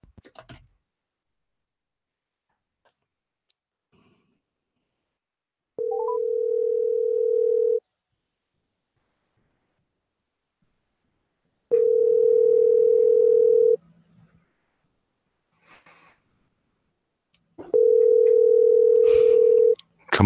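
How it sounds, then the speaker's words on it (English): Three long telephone ringback tones sound on an outgoing call, each lasting about two seconds and separated by silent gaps, loud and clean, with faint clicks at the start and end. "We're going to try calling him again."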